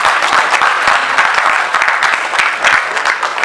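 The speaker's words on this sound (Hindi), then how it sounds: "जोरदार तालियां।" A theatre audience applauds loudly and steadily after a Hindi stage play, dense clapping close by filling the whole moment.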